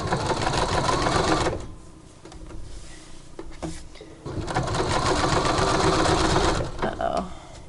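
A sewing machine with a buttonhole foot stitches a buttonhole, whirring loudly in two long bursts separated by a quieter stretch of clicks and handling, with a voice talking through part of it.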